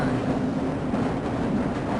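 A tram rumbles steadily through the Black Mesa transit system in Half-Life: Blue Shift, a continuous low mechanical drone with a faint hum riding on top, close and unbroken.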